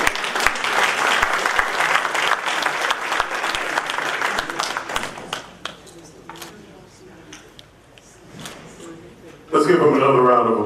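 An audience at a 2019 Women on the Move awards event claps for a presenting sponsor, a commissioner, with scattered sharp claps and fading applause before a fresh loud burst near the end.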